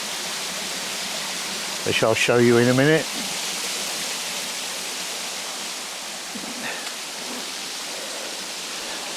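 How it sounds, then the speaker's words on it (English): Steady broadband rush of a small waterfall splashing into a little waterway feeding a restaurant pond, continuous and close, with someone speaking briefly over it. "the waterfall cascades into this little waterway"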